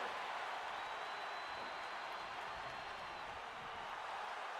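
Wrestling arena crowd in the WWE 2K26 video game, a steady wash of distant cheering and roar with faint scattered clapping, unbroken and fairly even in loudness.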